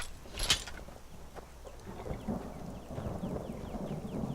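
Steady rain falls in the video game Skyrim with a low rumble of thunder, a soft constant hiss beneath a brief sharp crackle near the start.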